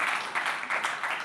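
Audience applause at a Hindi poetry recital on women's empowerment, a short burst of moderate, steady clapping from a seated crowd, heard alone without talk.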